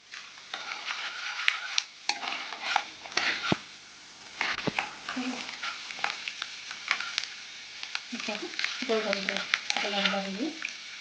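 Avalakki (flattened rice) fries in a pan until golden, giving a steady soft sizzle broken by frequent scraping and stirring clicks, with a voice speaking briefly near the end.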